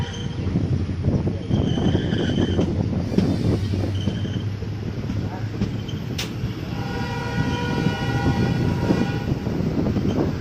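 Chendur SF express train 20605 pulling into a station, a steady loud rumble of rolling wagons with a brief horn-like tone and wind buffeting throughout.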